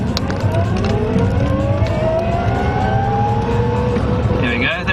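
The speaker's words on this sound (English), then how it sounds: "just to prove that acceleration of electric cars isn't actually slow" Electric conversion car pulling away hard from a standstill in second gear, a rising motor whine climbing steadily in pitch over a loud, rough road and tyre roar, continuous and close throughout.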